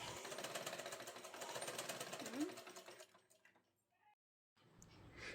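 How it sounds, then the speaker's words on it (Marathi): A home sewing machine runs steadily after oiling, its mechanism whirring at an even pace for about three seconds before slowing and stopping, with a brief resumption at the end. "इथं बघा मशीनच्या आवाजामध्ये खूप फरक पडला आहे"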